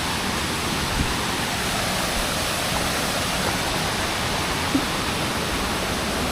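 Rushing water of a mountain stream on the Agasthiyamalai trekking trail, a steady broadband wash close by and continuous throughout, with no voices.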